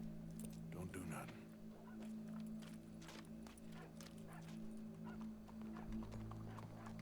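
Horse hooves clip-clop in Red Dead Redemption 2, a steady light rhythm under ongoing game music and ambience, with voices talking over parts of it.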